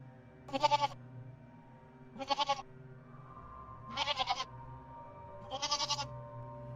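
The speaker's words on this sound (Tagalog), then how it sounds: "Mula sa tunog ng baboy, unti-unti itong nagiging tunog ng kambing" A goat bleats four times in short wavering calls, evenly spaced and fairly close, with a quiet background between them.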